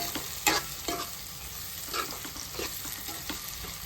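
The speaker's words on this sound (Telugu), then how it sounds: "టమాటాలు వేసుకుని ఇవి కూడా బాగా మగ్గనివ్వాలి దగ్గరగా" Finely chopped tomatoes frying in oil for a crab curry, with a steady close sizzle and occasional scrapes and taps of a spoon stirring through the pan.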